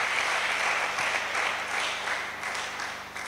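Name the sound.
church congregation applauding for Jesus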